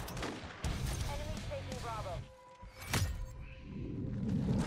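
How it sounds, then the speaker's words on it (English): Shotgun blasts from akimbo weapons in Modern Warfare 3 gameplay, a few loud booming shots over busy game noise and chatter, one sharp blast standing out near the middle. "Oh boy, with the akimbo shotguns."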